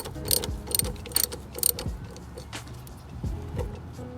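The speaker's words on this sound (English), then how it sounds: "I'm going to remove the positive battery connector, and this is where the 10mm socket comes in." A ratchet fitted with a 10mm socket clicks in quick bursts while loosening the positive battery terminal on a 4th gen Toyota 4Runner, close metallic ratcheting in several short runs with small clanks between them.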